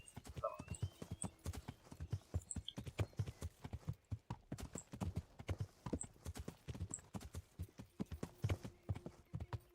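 Horse hooves clip-clop in a steady, close rhythm through Kingdom Come: Deliverance gameplay, with a brief whinny heard along the way.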